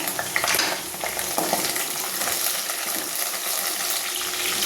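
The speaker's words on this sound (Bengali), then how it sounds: "আলুগুলো একটু ভালো করে নাড়াচাড়া করে নেব।" Potatoes and slit green chillies frying in a pan for a light vegetable curry, a loud continuous sizzle broken by scraping stirring strokes, close up and without talk.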